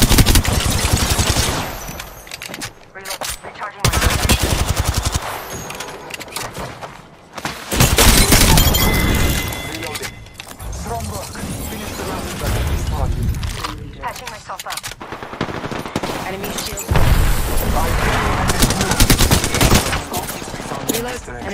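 Rapid gunfire bursts from Apex Legends gameplay, loud bursts and sharp cracks repeating in volleys across the clip, mixed with in-game voice lines and other game sounds.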